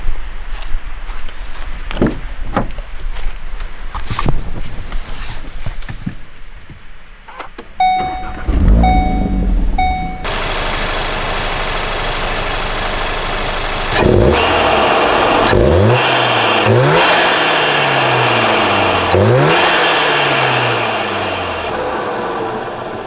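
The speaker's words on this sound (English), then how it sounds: "I'm going to start it up, and we'll get a couple exhaust clips for you guys and intake clips as well." A modified 2021 Volkswagen Golf R with an IE Stage 1 tune. Warning chimes sound before the engine cranks and fires with a loud burst, then settles to a steady idle before several sharp revs climb and fall one after another.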